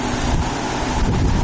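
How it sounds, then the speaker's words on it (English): Strong wind gusting past an outdoor microphone, a continuous loud broadband roar with rumbling buffeting in the low end, steady throughout with no talk. "There's a big gust of wind blowing behind me."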